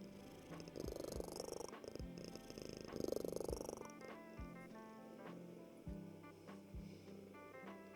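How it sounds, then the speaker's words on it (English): An elderly but healthy cat purrs close up, a steady, soft rumbling drone with slow pulses and light background music underneath. "But this is how her purrs sound."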